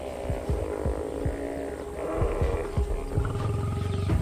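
Lions of the MK pride in the southern savanna during the dry season give a series of deep, rhythmic grunting roars, fairly close and loud over a low hum, with no talk.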